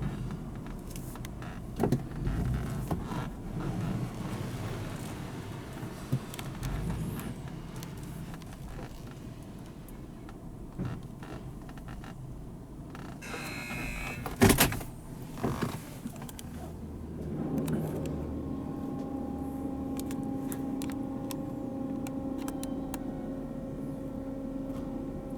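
A vintage Autec Soft Touch car wash at Mission Valley Car Wash in Tucson runs around a car, heard from inside: whirring motors, creaks and scattered thumps, a sharp clunk midway, then a steadier mechanical hum, with no talk.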